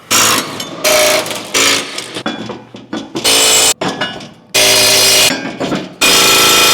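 Pneumatic impact wrench on the blade bolts of a Cub Cadet ZTX5 60-inch zero-turn mower, loud rattling bursts repeated in several long and short runs with brief pauses between them.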